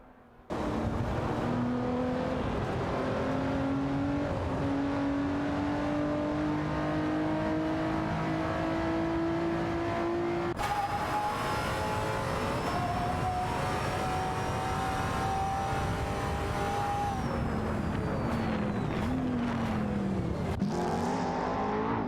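An Aston Martin Vantage GT12 and a Lamborghini Murcielago SV race in a driving game, with loud continuous engine roar and rising and falling revs through gear changes, close and sustained.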